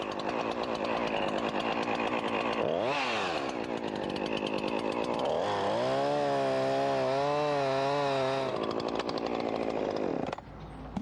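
A chainsaw cuts a face notch in a tree limb during rigging work, its engine loud and close. It idles, bogs and revs as the chain bites, then pulls into a higher, wavering whine before easing off near the end.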